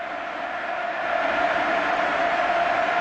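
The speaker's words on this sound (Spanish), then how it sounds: "esta es la ovación que se lleva Messi" A stadium crowd's ovation for Messi after his hat-trick for Barcelona against Valencia, a dense, steady roar of applause and cheering that swells slightly louder after the first second.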